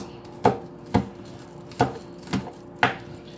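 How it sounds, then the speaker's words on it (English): A kitchen knife finely chopping scallions on a cutting board for Jamaican salt fish fritters, five sharp, evenly spaced chops close up with no talk. "I'm going to cut this finely because I don't want big chunks in my mouth"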